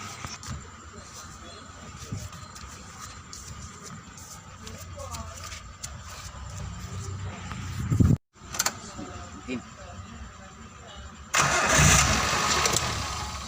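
A Suzuki APV engine is cranked and started after a repair to its leaking power steering rack, the engine catching and running louder near the end amid workshop noise and voices talking.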